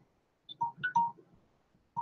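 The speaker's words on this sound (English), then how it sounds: "Now the timer went off." Phone timer alarm sounding in short electronic beeps, a quick cluster of bright tones followed by a gap and another beep starting, close and clear with no talking.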